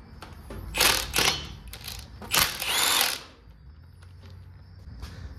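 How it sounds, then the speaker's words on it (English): Bursts of rapid ratchet clicking as a wrench backs out 14 mm bolts on the front end of a 1978 Ford F100 short bed with a 351, two loud runs close by, then quiet shop noise. "Now that I can see these bolts, let's take them out of there."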